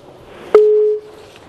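A single steady telephone tone sounds after a dropped call-in line on a car talk show. It plays once for about half a second, clear and fairly loud over a quiet background.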